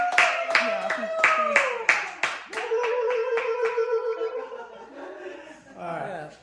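Several sharp hand claps sound close and loud in a quick irregular burst, mixed with talking voices that continue over and after them.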